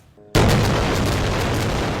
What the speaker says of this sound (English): explosion after explosion rattling Gaza